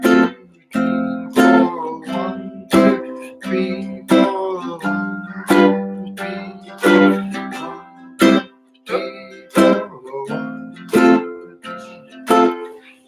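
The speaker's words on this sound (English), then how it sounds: "So let's lightly strum 1 and then accent 2 and accent 4." A ukulele is strummed in a steady four-beat pattern with light strokes on beats 1 and 3 and sharper, louder accents on beats 2 and 4. The strumming is close and clear, with no other sound.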